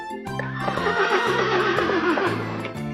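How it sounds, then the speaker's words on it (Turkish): A horse gives a long, loud whinny that rises and wavers over a few seconds, with gentle music playing beneath it. "Atlar kişner."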